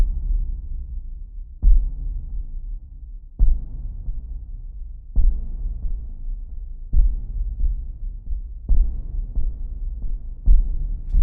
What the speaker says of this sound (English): let's go down to a single echo